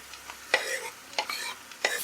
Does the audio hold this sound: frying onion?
yes